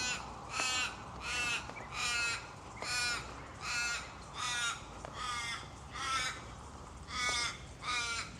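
Crows caw repeatedly in a suburban street in Perth, about ten harsh calls in steady sets spaced roughly a second apart, fairly close and clear over a low background hum.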